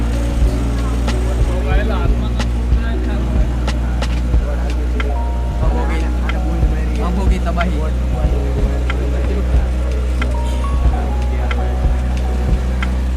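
A motorboat ride on water carries a steady, loud low engine drone throughout, with splashes and knocks and people talking over it.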